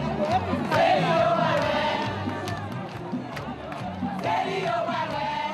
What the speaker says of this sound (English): This crowd of thousands danced, sang, and chanted beside a van with a charismatic preacher on the roof